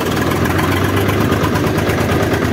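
A tractor engine runs loud and close, holding a steady, heavy idling rumble with a vibrating, rattly edge throughout and no talk.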